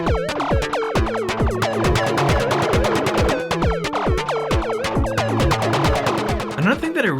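Perkons drum machine pattern processed through an Octatrack, with the kick drum routed to its own separate track: dense, busy electronic percussion with throbbing tonal hits and pitched sweeps, loud and continuous, close and dry.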